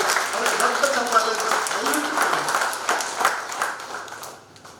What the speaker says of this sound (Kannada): ಈ ಸಂದರ್ಭದಲ್ಲಿ ಅವರ ದೊಡ್ಡ ಚಪ್ಪಾಳೆ